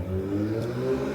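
A 1968 Dodge Charger R/T's 426 Hemi V8 with a custom-grind cam idles steadily with a deep, loping chop, loud and close, with no voices over it.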